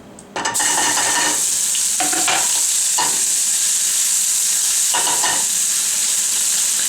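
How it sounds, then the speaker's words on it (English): Octopus sautés in hot oil in a pan: a loud, dense sizzle starts abruptly and holds steady, broken by a few sharp stirring scrapes. "we're basically just going to saute these for a few minutes and let them cook in the oil and get the flavor all mixed in"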